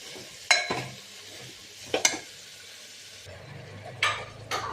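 Dried fish sautéed with spice paste in a cooker, a low sizzle under a few sharp spoon scrapes and clinks against the pan, no speech.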